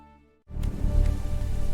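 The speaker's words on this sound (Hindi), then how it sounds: "बारिश हो रही है" Rain starts suddenly after a brief musical lead-in, a dense, steady hiss of falling drops with a low rumbling body, loud and continuous to the end.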